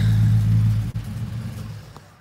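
A car engine with more power than the car can handle revs loudly with a deep, steady rumble, dips briefly near the one-second mark, then eases off and fades toward the end.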